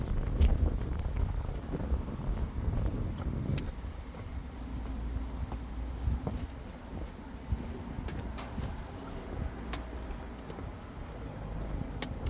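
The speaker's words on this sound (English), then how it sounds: "It's windy" Wind gusts buffet the microphone in a steady, rumbling roar throughout, with faint outdoor background noise beneath, on a street in Kippax village near Leeds, Yorkshire.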